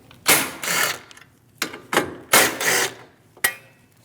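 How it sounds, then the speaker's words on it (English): Two 10mm bolts being loosened on the hood latch bracket of a 2016-2025 Chevrolet Malibu 1.5L, close, loud bursts of ratcheting tool clicks in separate short runs with pauses between. "Remove the two 10mm bolts on that hood latch bracket"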